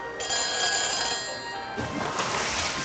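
Phone helmet in Back to the Future: The Game rings electronically after dialing, a bright repeating trill of steady tones lasting a few seconds with no voices over it.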